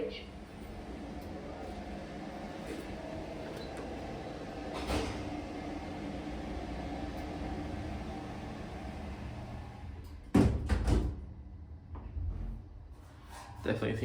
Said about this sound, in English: Doors opening on footbridge.